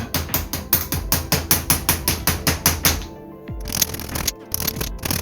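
A ball peen hammer pounds a copper-style metal Japanese cabinet pull in rapid, sharp, evenly spaced strikes, loud and close, then a brief pause and a few scattered taps.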